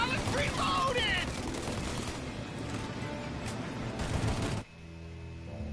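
Turret gunfire in the Mafia remake video game, a dense rattling burst of shots that fades out and then drops off abruptly, with voices shouting in the background.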